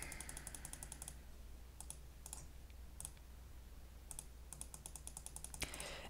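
A computer mouse gives short bursts of quick, light clicks in irregular clusters, some closely spaced, over a quiet room hum.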